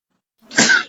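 A single sneeze, sharp and close, bursts briefly after a moment of silence with no other sound around it.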